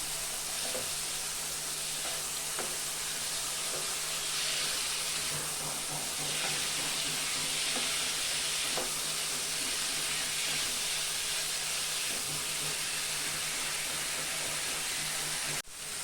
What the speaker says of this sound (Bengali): ছোলাটা দিয়ে আমি একটু সময় কষাবো।